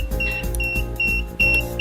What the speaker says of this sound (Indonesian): Maka indikator seperti buzzer dan lampu akan menyala.